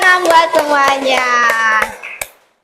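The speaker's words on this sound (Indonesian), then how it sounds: "tepuk tangan buat semuanya." During an online accounting class session, a group claps in a quick, steady rhythm for a couple of seconds under a loud, sustained voice, then it ends with a final clap and silence.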